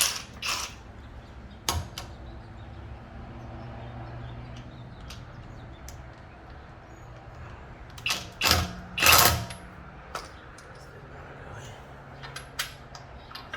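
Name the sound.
21mm impact socket wrench removing Tesla Model Y locking key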